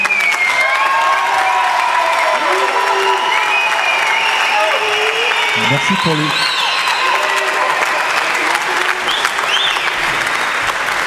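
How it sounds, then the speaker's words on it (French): Audience applause fills an improv match hall with dense, sustained clapping and some cheering, while a presenter speaks over it in French. "je vous demande de l'applaudir et non de le siffler"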